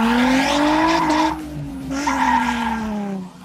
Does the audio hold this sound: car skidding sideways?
yes